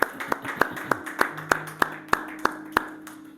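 A church congregation claps together, a steady run of about a dozen sharp, evenly spaced claps over a soft hum and faint background voices.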